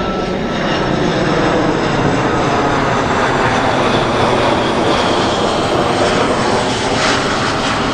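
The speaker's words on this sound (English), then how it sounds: "As a plane goes overhead," A fixed-wing airplane passing overhead outdoors, a steady loud engine drone filling the whole stretch without pause and with no talking.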